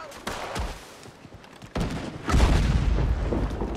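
Gunfire from a shooter positioned in a tower in Red Dead Redemption 2, set in Guatemala: a few sharp cracks, then heavier booming blasts that swell into sustained, dense firing.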